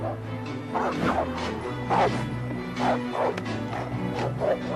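Pit bulls bark repeatedly while chasing a boy, loud rapid barks in irregular bursts close by, with a low rumbling background beneath.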